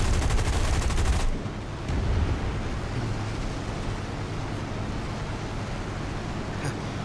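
Aircraft guns in the War Thunder combat flight game fire a rapid, loud burst of about a second, then cut off, leaving a steady rushing roar of engine and wind.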